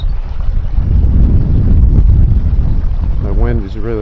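Strong wind buffets the microphone beside a river under a bridge during fishing, a steady loud low roar throughout, with a brief tonal whine near the end.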